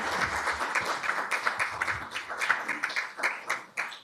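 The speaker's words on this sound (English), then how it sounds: "another round of applause" Audience applause at a city commission meeting in Augusta, a dense patter of many hands clapping steadily throughout, moderately loud and close, with no talk over it.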